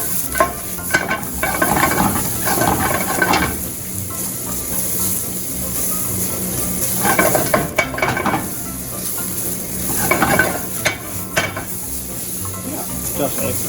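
Eggplant and beef tenderloin sizzle steadily in a hot pan, with periodic louder bursts of stirring and scraping over a constant frying hiss, no voices.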